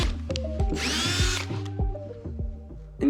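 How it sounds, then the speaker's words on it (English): Power drill driving screws into a homemade wooden bike repair stand, several short whirring bursts of the motor with a brief higher whine in the middle, close and loud with no talk. "you're going to want to drill it into the stand"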